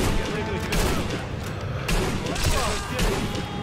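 Grenade blasts and gunfire from the Sniper Elite V2 video game thud and crackle in repeated bursts, loud and close, with someone talking over the battle noise.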